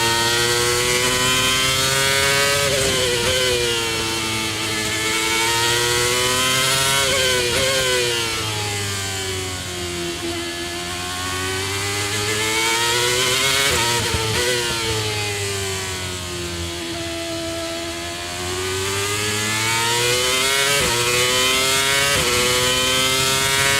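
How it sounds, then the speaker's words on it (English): Formula 1 car engine screaming through a lap at Zandvoort, loud and continuous with rising and falling pitch as it accelerates, shifts gears and brakes into corners, heard alone without talk. "Some of these features can be seen in this lap at Zandvoort by Max Verstappen."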